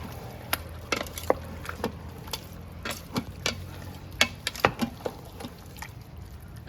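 Beef caldereta ingredients seasoned with salt and pepper are stirred inside an Instant Pot, with irregular spoon knocks and scrapes against the metal pot, some louder clacks scattered through a quiet background.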